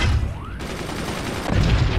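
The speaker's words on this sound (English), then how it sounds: "we got a hit with a mortar." Mortar fire in the Forts game: a cluster of loud, close thuds and crackling bursts at the start and again near the end, with a brief whistling arc between them and no speech.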